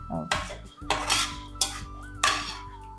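Metal utensils clatter and scrape against a pot of pineapple pachadi curry in several bursts, a spoon working the contents with short pauses between strokes.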